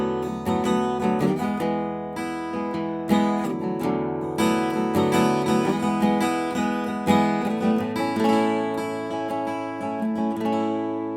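A Taylor 614 acoustic guitar rings out 4 and 5 chord voicings, strummed and arpeggiated chords with long sustain letting notes bloom and overlap, close and full, no voices.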